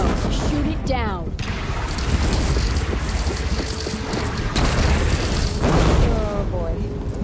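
In the Horizon Zero Dawn game, a bridge is shot down and collapses with rolling booms, crashing debris and a continuous heavy rumble, while voices briefly speak over the din.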